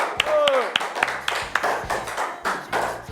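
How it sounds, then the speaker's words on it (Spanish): Studio audience on a Colombian talk show claps for an arriving guest, a thin scatter of separate sharp hand claps with a few louder slaps, while a voice murmurs underneath. "Un aplauso."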